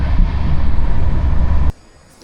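A train rolling through Lanka station on the Kolkata to Mizoram run gives a loud, steady rumble for most of the stretch, then cuts off abruptly to a much quieter background near the end.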